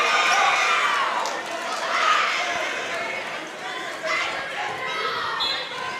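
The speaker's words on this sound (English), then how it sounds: "Crowd getting into it." A crowd cheers and chatters at a high school boys basketball game between Lyon County and Caldwell County, a broad noisy swell with squeaks and shouts while an announcer talks over it.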